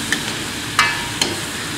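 Dried napa cabbage stems tossed into a wok with chicken giblets, a soft sizzle broken by two or three quick scraping stir strokes, close and brief.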